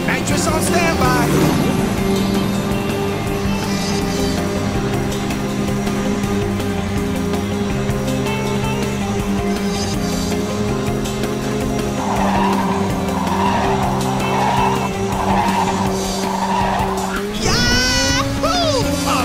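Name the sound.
race car using nitrous in video game Ridge Racer 6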